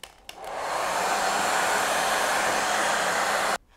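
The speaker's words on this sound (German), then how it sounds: "alle Kanten nochmal schön anzudrücken und dabei den Föhn zur Hilfe zu nehmen" A hair dryer blows steadily for about three seconds while heating the edges of a motorcycle decal during application, starting up with a brief click and cutting off abruptly at the end, loud and close with no talking.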